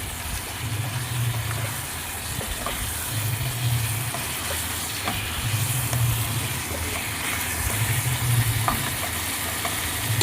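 Ginger, garlic and chili paste frying in a pan while being stirred, a continuous low sizzle with a faint rhythmic hum underneath and soft scraping, no talk.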